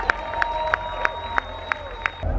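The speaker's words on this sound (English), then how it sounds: "Clap, cheer!" A festival crowd at the Sziget stage claps in a steady, even rhythm, about three claps a second, over a constant roar of crowd noise and a low hum, heard from within the audience.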